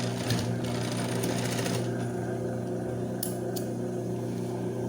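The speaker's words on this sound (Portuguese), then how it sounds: "Termina de costurar e dá o retrocesso final." A sewing machine stitches bias binding onto a simple fabric case, a steady close-up whirring that runs continuously, with a couple of sharp clicks near the end as it backstitches to finish.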